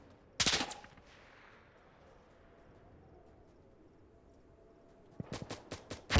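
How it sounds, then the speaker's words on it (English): Gunfire through walls in the tactical shooter Insurgency Sandstorm. A sharp burst of rapid shots is followed by a long quiet pause, then another quick volley of four or five cracks, fairly close and alone. "there's a lot of shooting through the walls"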